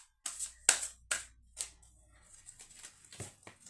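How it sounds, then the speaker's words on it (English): A deck of reading cards shuffled by hand at close range: quiet, quick riffling and slapping bursts, several in a row, then softer scattered rustles. "I'm just going to shuffle."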